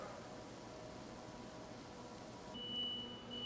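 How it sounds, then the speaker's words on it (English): A Fagor combi oven roasting a beef tenderloin by convection gives off a thin, steady electronic beep tone that starts near the end, faint over a low fan-like hiss. "now our tenderloin is beeping, so let's get that roast out of the oven."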